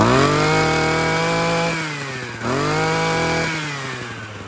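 A Japanese brush cutter engine runs loud and close, holding a steady buzzing pitch, easing down, then revving back up sharply before settling lower again, with no voices.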